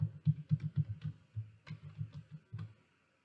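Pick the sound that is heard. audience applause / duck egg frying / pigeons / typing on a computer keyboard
typing on a computer keyboard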